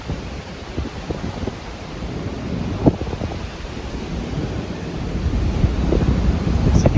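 Strong wind on the sea walk at Skagway, Alaska buffets the microphone as a constant low roar with gusty surges that grow louder toward the end, with a faint wash of water beneath.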